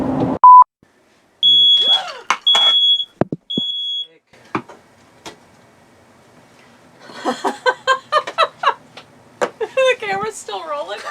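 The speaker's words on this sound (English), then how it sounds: "take the battery out of your smoke detector before you burn things" A smoke alarm gives a few loud, piercing beeps in short bursts, then a voice talks nearby after it stops.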